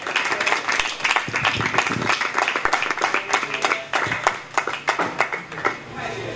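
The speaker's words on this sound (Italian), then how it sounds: "Facciamo noi un applauso al suo ricordo e al suo coraggio." An audience at a public meeting in Italy gives sustained applause, with sharp individual claps standing out from the steady patter. Voices murmur underneath throughout.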